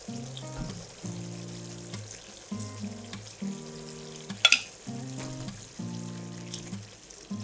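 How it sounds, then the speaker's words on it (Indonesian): Fried chicken pieces are tipped into a thick, oil-separated onion sauce and stirred, producing a steady sizzle with scraping spoon strokes in regular bursts, close and fairly quiet, with no voices. "Bila kuah dah pecah minyak macam ni, masukkan ayam goreng."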